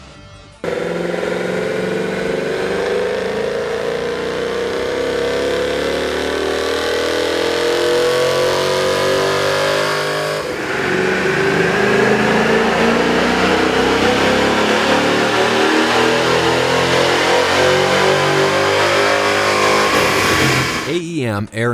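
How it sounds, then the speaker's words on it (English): A 2011 Ford Mustang GT with its 5.0L V8 on a dyno, first with the stock intake and then with an AEM air intake, makes two long, loud, steadily rising full-throttle pulls, each climbing in pitch before cutting off abruptly. "Here's a comparison of the Mustang sound on the dyno with the stock OEM system versus AEM's air"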